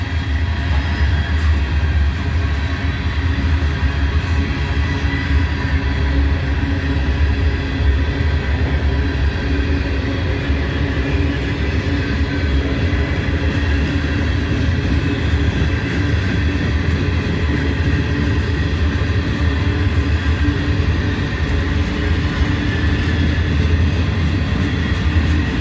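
Loaded potash freight train on the Atlantic Coast Line rolling past, a loud continuous rumble and wheel roar with steady rail clatter and no talking.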